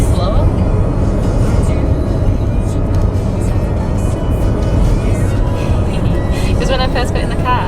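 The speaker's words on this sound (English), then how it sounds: "I'm actually driving at 70 miles an hour." A car cruises on a highway at 70 mph, its steady road and engine roar filling the cabin without a break. No one talks over the constant drone.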